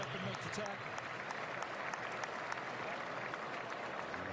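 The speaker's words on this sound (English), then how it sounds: "And the fans give him a round of applause as they help him off the field." College football stadium crowd at Alabama vs Ole Miss applauding as an injured player is helped off the field, a broad distant wash of clapping and cheering under a commentator's voice.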